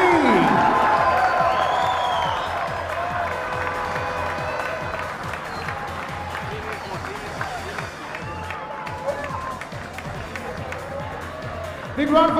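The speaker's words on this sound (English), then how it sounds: "Big round of applause to Colombo FC, the Vantage FFSL President's Cup 2020 champions." A crowd at the Vantage FFSL President's Cup 2020 grand final ceremony applauds and cheers champions Colombo FC, loud clapping that fades slightly into a long, even ovation.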